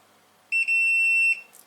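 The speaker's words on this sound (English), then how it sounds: "It definitely gives you a nice audible beep, so you are getting that confirmation whether it's locked or unlocked." A Faroro PF20 automatic pet feeder gives a single steady electronic beep of just under a second, loud and close, confirming that its lock or unlock has been set.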